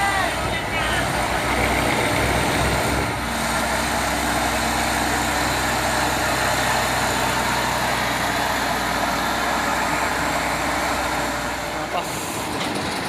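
Hino Tronton truck engine labouring up a steep hill at Bukit Kodok, a steady loud drone with broad rumble throughout, with people talking over it.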